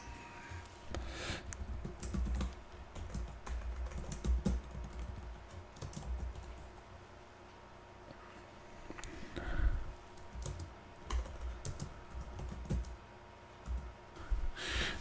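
Keys clatter on a computer keyboard as an engraving for an iPad is entered, in irregular bursts of quiet clicks separated by short pauses, faint and close.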